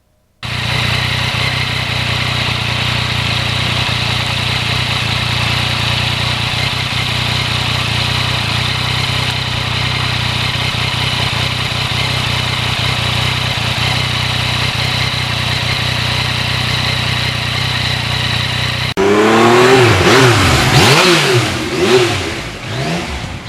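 A 2020 Yamaha MT-09 crossplane triple motorcycle on a back-roads ride: a steady, loud engine drone holding an even pitch for a long stretch, then a sharp change to rising and falling revs as the rider accelerates and shifts near the end.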